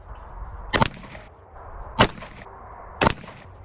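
Three sharp gunshots from a Rock Island Tac Ultra FS HC 1911 .45 ACP pistol at a shooting range, spaced about a second apart, each loud and close with a brief ringing tail.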